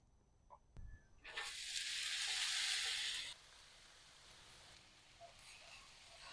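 Food dropped onto an oiled Blackstone Culinary griddle bursts into a loud, bright sizzle that holds for about two seconds, then settles into a quieter steady frying hiss with small pops, close up and without talk.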